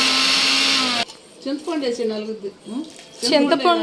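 A mixer grinder roars loudly as it grinds fenugreek, ginger, rock salt and garlic, a steady high whine that cuts off abruptly after about a second, followed by someone speaking.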